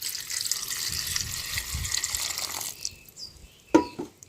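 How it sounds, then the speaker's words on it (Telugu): Water pours in a brief hissing stream onto tamarind, then stops, followed by a sharp clink and a short trickle. "వాటర్ పోసుకొని"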